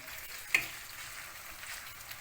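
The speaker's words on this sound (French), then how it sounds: "Voilà, ils sont en train de mijoter un petit moment." Chopped cabbage, onion, bell pepper and a lemon piece simmer in a pan with a soft, steady sizzle, faint and even, broken by one small click early on.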